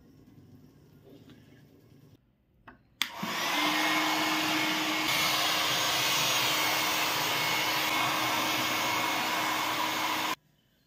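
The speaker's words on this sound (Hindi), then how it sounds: "जब भी आप ड्रायर का यूज़ कीजिए तो अगर आपके बाल स्ट्रेट हैं तो हमेशा इस तरीके से हम लोग को ड्राई करना है" A hair dryer blowing on straight hair switches on abruptly after a quiet stretch and runs as a loud, steady, close whoosh for about seven seconds before cutting off, with no speech.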